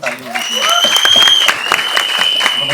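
Loud, sustained audience applause and cheering fills a crowded trailer launch event for Kis Kis Kisko Pyaar Karoon 2 as a tribute to Dharmendra, with a voice briefly audible at the start.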